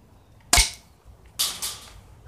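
Two sharp airsoft BB gun shots fired toward the camera, the first a loud crack, the second about a second later slightly softer, with nothing else in between.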